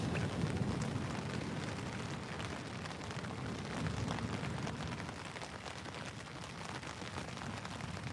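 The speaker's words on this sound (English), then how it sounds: "Hopefully this rain stops at 10 o'clock." Rain falls steadily at night during sea fishing on the shore at Bournemouth, a constant close hiss and patter with no let-up.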